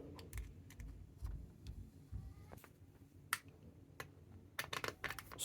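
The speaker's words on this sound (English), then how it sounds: "Screw it on like this." Screws being driven into a part during a Traxxas T-Maxx RC truck rebuild and electric conversion produce irregular sharp clicks and small plastic-and-metal taps, close and quiet, with no talking.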